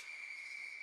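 Referee's whistle in an amateur men's open ice hockey game, a steady sustained shrill tone lasting under a second, moderately loud against a faint airy background.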